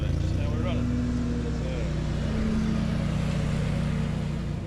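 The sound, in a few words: RC lawn mower running on its blades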